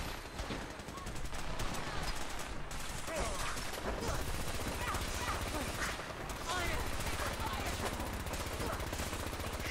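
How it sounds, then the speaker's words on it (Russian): Rapid minigun fire from a Fallout 4 battle rattles in dense, sustained bursts, loud and nearly continuous, with a voice talking over it in places. "Миниган, мне кажется, точнее шьёт."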